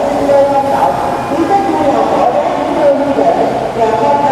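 Ho Chi Minh City metro train at a station, heard as a steady, loud rail rumble with a continuous hum that carries through the whole stretch, with some talk mixed in underneath.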